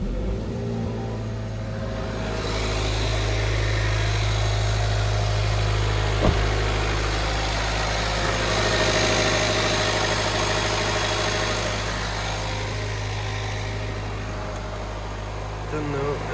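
A damaged Jaguar F-Type idles with a steady, loud low rumble and a faint mechanical whine that swells slightly mid-way, and a single brief click cuts through; no clear start-up crank stands out.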